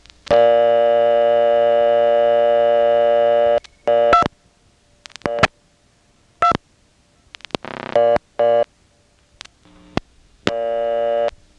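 Payphone calls placed through an independent step-by-step telephone exchange in Nantes, Quebec: a long steady tone, then a series of short clicks and bursts, brief tones and pauses, and another tone at the end.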